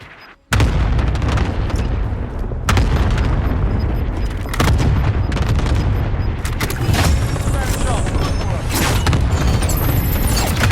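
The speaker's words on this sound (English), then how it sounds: "Cluster strike away." Cluster airstrike in Call of Duty Warzone Plunder mode: a dense, continuous barrage of heavy booming explosions rolls on for several seconds, loud and close, with overlapping blasts and sharp bursts layered over a deep rumble.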